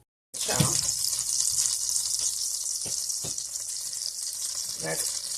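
Onions and chopped garlic hit melted butter in a soup pot and burst into a loud, steady sizzle that continues evenly, with a few scraping stirs, close up and with no speech.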